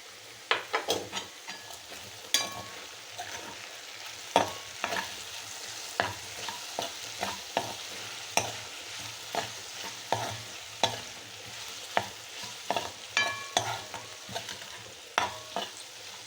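Small sambar onions sauté with salt in a pan in a Kerala home kitchen, a steady close sizzle broken by frequent sharp scrapes and taps of a stirring spoon against the pan, with no talk.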